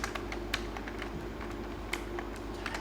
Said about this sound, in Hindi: यहाँ पे नरेशन टाइप करेंगे